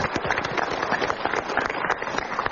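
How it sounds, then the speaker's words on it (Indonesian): A seminar audience breaks into sustained applause, many hands clapping in a thick, even crackle that holds steady for the whole stretch, fairly near and with no speech over it. "Kita berikan tepuk tangan."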